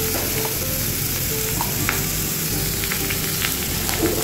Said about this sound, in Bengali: ঘিয়ে ভেজে নেব